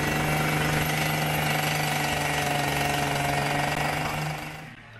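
A jackhammer pounds nearby at a campsite stop near Freiburg, a loud, continuous rapid hammering with an engine drone that holds steady and then fades out at the end.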